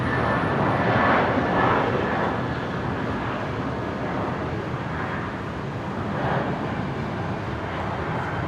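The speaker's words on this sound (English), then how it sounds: "There we go, the Jetstar 320 rolling." A Jetstar Airbus A320 airliner rolls for takeoff at Brisbane International Airport, a steady, moderately distant engine roar with a low rumble that swells and fades slightly over several seconds.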